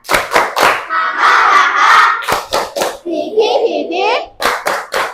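Children in a classroom clap a rhythmic 'happy clap', sharp grouped claps in a patterned beat with shouted chanting voices between and during the claps.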